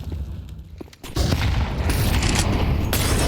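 Pistol gunfire in Counter-Strike on the Inferno map during a professional match: after a brief quieter lead-in, a loud, dense burst of rapid shots and impacts fills the rest of the clip with hardly any talk.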